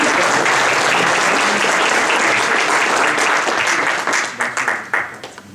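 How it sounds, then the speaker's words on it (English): Audience applause at the end of a keynote session on software and the Fourth Industrial Revolution, dense sustained clapping from a large crowd that thins into scattered claps before fading. "so round of applause"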